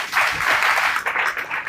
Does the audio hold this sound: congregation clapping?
yes